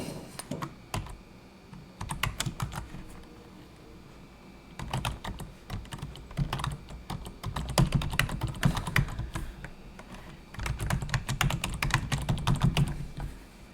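Fingers typing on a computer keyboard in quick bursts of clicking keystrokes separated by short pauses, close and clear, entering details into an online form with no talking.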